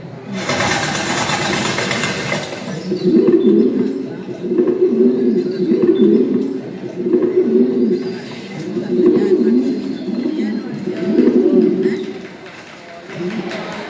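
A pigeon coos over and over in rhythmic, evenly spaced bursts, fairly close and clear, while a voice speaks alongside it.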